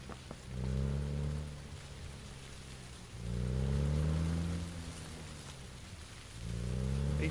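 A vehicle engine revs in PUBG, its pitch climbing and falling in three separate surges, steady and fairly loud over constant background noise.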